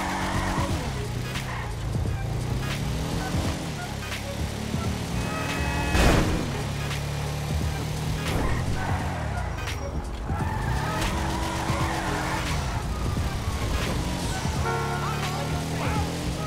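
Car tires skid and squeal repeatedly in GTA 5 under steady engine roar, loud and continuous with occasional bursts from the car.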